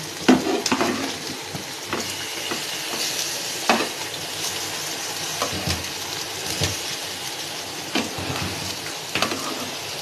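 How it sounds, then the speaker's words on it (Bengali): Spiced eggplant slices sizzle steadily in a frying pan, a close, continuous crackle with a few sharp clicks and scrapes as the slices are flipped. "একটা পিঠ ভাজা হয়ে গেছে, এবার এই পাল্টে দিচ্ছি।"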